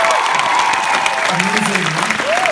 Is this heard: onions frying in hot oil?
no